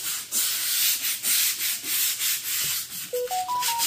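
Dark tile grout lines scrubbed on a small test spot during a tile cleaning job, a steady rough rubbing with a rhythmic back-and-forth pulse, close and loud throughout, with a few brief higher tones near the end.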